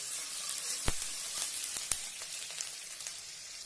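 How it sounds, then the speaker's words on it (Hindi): Onion and chilli fry in hot oil for an egg pav bhaji gravy, giving a continuous bright sizzle with a few sharp crackles and spatula taps, close and steady throughout. "प्याज के बाद थोड़ा मिर्च। अब इसको थोड़ा भूनेंगे।"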